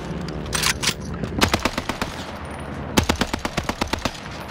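Rapid automatic gunfire in Call of Duty Modern Warfare, with a short opening burst followed by two longer strings of evenly spaced, sharp shots that sound close and loud.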